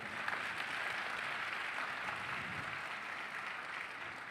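Steady applause from a church congregation, a dense continuous patter of clapping holding at an even level throughout with no voices over it.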